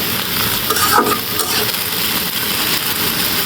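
Okra frying in a pan in a home kitchen, a steady loud sizzle broken by scraping stir strokes from a spatula, with no voices.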